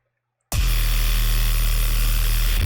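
An 808 bass in FL Studio, pushed through a heavy distortion effects chain, starts abruptly after a short silence and holds for about two seconds as a loud, buzzing, gritty tone with a deep low end.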